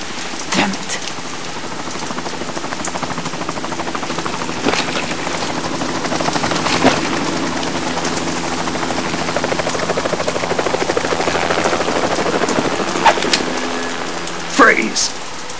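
A helicopter's rotor thrums steadily through a constant hiss of falling rain in Metal Gear Solid 2: Sons of Liberty, loud and unbroken, with a few sharp knocks scattered throughout.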